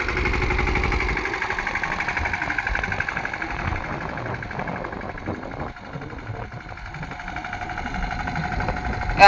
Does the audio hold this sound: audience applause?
no